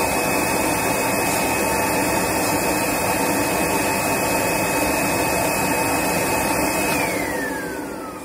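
An electric motor on a protection and automation control panel runs with a loud, steady broadband whir until the overload relay trips near the end and the hum winds down, pitch sliding lower as it fades.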